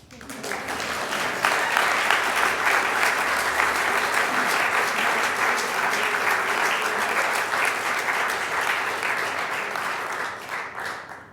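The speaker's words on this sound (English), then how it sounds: "That's a good place to applause." An audience applauds at an annual justice-reform event: steady, dense clapping from a sizeable crowd that holds for about ten seconds before easing off.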